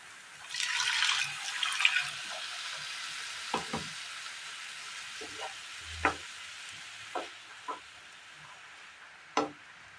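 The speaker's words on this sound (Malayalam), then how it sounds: "ഇതിലേക്ക് ഒരൽപ്പം ചൂടുവെള്ളം ഒഴിച്ചു കൊടുക്കാം" Hot water is poured into a beetroot mixture in a Kerala-style dish, a short soft splashing rush near the start followed by faint scattered clinks and taps.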